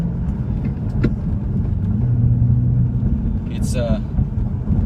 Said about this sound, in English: It's got a ton of power, as you can probably hear from the just the rumble and the feel of the engine.